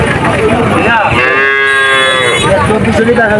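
A calf at a Bangladeshi cattle market gives one loud, close, drawn-out moo that swells and fades over market bustle, with no talk over it.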